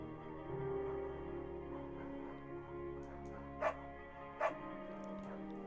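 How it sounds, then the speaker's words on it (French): Dog barking in the Firewatch video game, heard as a short bark and a whimpering yip over steady low game ambience. Two sharp brief bark bursts follow later, moderately close and set against the background hum. "Bucket est un bon chien."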